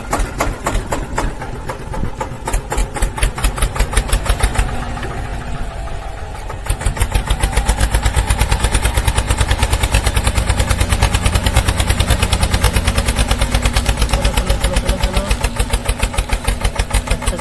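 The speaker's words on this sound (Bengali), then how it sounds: "ট্রেক্টর স্টার্ট করো। চলো ট্রেক্টর চলো চলো চলো চলো।" A DIY mini toy tractor's small motor runs steadily for the whole stretch, a rapid close buzzing chatter that briefly changes texture midway, loud and continuous with no talk.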